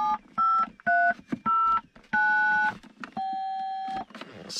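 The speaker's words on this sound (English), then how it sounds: "You heard the beeping for the phone." Car phone in a Lincoln Mark VIII beeping out a quick series of close, clear dial-tone style notes, each tone held briefly with short gaps and a longer final tone, with no talking.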